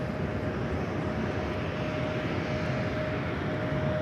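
A Delta airliner going around at LAX roars overhead in a loud, steady, continuous engine rumble that holds for the whole stretch, broadband and close, with no voices over it.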